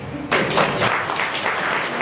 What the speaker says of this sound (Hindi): उनके लिए भी ताली बजाए